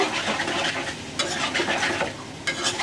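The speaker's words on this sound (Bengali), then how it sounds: "মিষ্টি কুমড়ার জন্য হালকা একটু হলুদ দিয়ে দিব, আমি দিয়ে দিব লবণ, একটু নাড়িয়ে দিব" Stirring pumpkin pieces with turmeric and salt in a cooking pot, close by, giving a steady scraping and swishing over a faint sizzle, with a few louder scrapes along the way.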